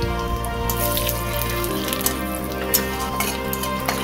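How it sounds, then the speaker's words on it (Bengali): Bay leaves and whole cumin hit hot oil, giving a loud, close sizzle over a low hum, with light scraping in the pan and a few sharp pops. "এবার ওই তেলেই তেজপাতা, গোটা জিরে দিয়ে দেব।"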